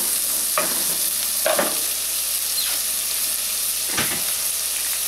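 Onion and garlic sauté in a pan, a steady hiss of sizzling punctuated by a few distinct scraping stirs, heard close and alone.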